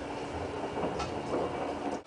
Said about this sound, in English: We've been riding on trains for about 11 hours today and now we're finally just about to arrive in Vienna.